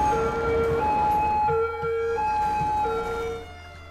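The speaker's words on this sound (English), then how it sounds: "Oh, the sound of these sirens is just annoying." Emergency vehicle sirens wail in the city-building game Cities Skylines, repeating two-tone pitch alternations at moderate loudness over a low background rumble, with no talking.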